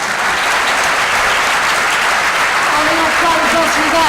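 Sustained audience applause fills a theatre after a performance of the play Finisterra, a dense, steady wash of many hands clapping throughout, with a voice speaking faintly under it near the end.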